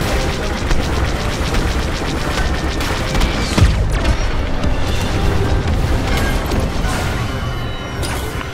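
Dense, continuous rumbling blasts and crashes with rapid laser-like fire from a Star Wars Battlefront 2 space battle on PS4, a loud chaotic din with no pauses, one heavier boom near the middle.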